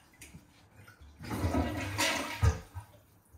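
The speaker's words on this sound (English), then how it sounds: "why don't you try to flush it?" A household toilet flushes in a bathroom, a sudden rushing swirl of water that surges up loud and close, then drains off and fades over a few seconds.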